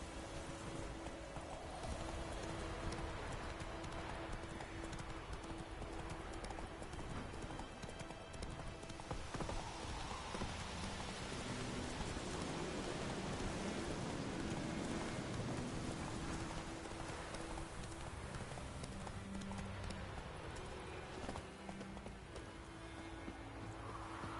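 Horse hooves clatter at a gallop through steady rain in The Witcher 3, a continuous rhythmic clip-clop under the dense hiss of rainfall, with faint thunder and music-like tones in the background.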